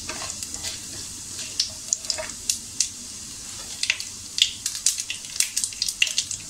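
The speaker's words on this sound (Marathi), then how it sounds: "आपली फोडणी छान तडतडली आहे।" Mustard and cumin seeds crackle in hot oil as a tempering for tawa pulao. Sharp, irregular pops and sizzles grow denser over the seconds, close and alone with no talk.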